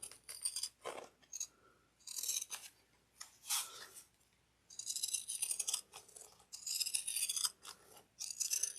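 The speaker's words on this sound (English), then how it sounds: "I just like using the pinking shears when there's a curve" Pinking shears snipping through tote bag fabric, a series of crisp, close crunching cuts in irregular bursts with brief pauses between strokes.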